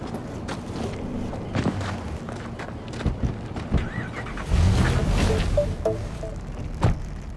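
A car driving in Cyberpunk 2077 rumbles low and steady, with a swell of engine and road noise partway through and scattered thumps and clatter layered over it.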